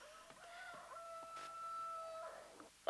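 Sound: rooster crowing

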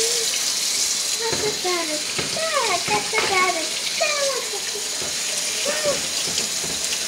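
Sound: child washing hands under running tap water

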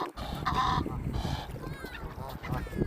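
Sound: ducks calling

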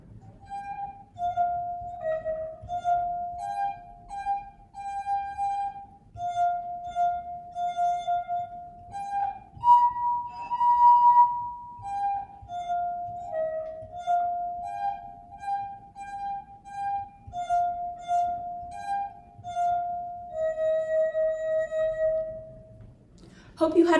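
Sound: water glass xylophone playing a tune

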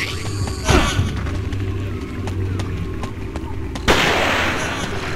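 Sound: gunfire from an enemy in the video game Forbidden Siren

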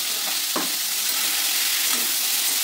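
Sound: stirring star fruit chutney in a pan

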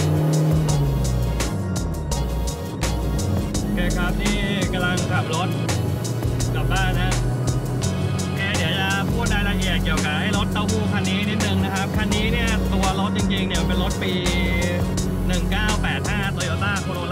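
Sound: Toyota AE86 car driving

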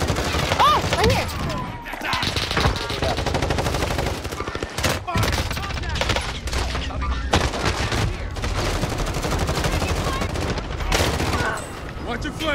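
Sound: gunfire in the video game Modern Warfare Warzone

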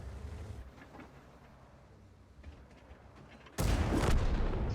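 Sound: tank gun shot in World of Tanks video game

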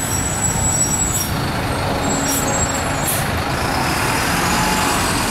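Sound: city bus passing with air brakes

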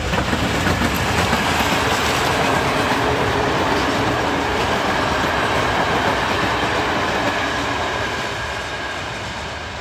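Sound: train passing

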